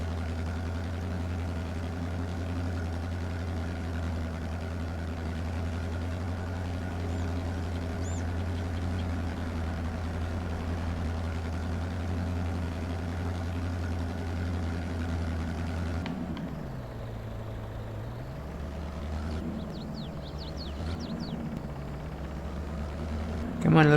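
Tractor engine idling in Farming Simulator 22, a steady low rumble running loud and unbroken, then dipping and shifting in pitch near the end as the machine moves; a person talks over it.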